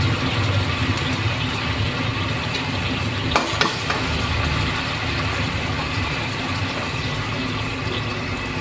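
Sardines sauté in a home kitchen pan with a loud, steady sizzle and crackle, stirred now and then, with a brief clatter midway and no talking.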